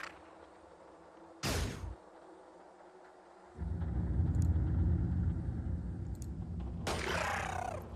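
Soldiers' guns fire in the video game Xenonauts: a sharp burst, then a sustained loud rumbling roar of gunfire, and another crackling burst near the end, all without speech.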